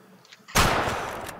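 One loud, sharp hunting rifle shot in a video game cracks out of near-silence, followed by a long rumbling decay.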